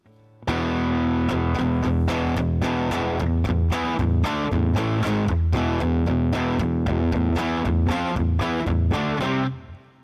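Overdriven electric guitar played through the Overloud TH-U amp simulator app on iOS with a pushed, crunchy tone. Rhythmic chord strikes and short riffs ring out alone, with brief gaps between hits and a fade at the end.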